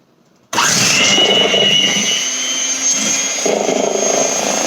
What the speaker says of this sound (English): now you're going to take your mixer, and I'll hold the bowl